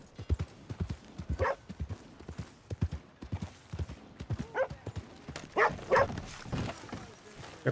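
Dog barking at a horse in the Red Dead Redemption 2 video game, with steady horse hoof clip-clops throughout, a few sharp barks and yips toward the end, and a voice talking.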